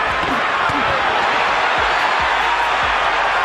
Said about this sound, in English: The crowd behind Holyfield